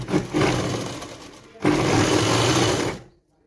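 A sewing machine stitches the hem of a six-panel petticoat in two sustained motorized runs, with a short pause between them, close and fairly loud, ending abruptly.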